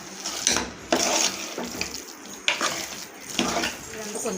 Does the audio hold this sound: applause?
no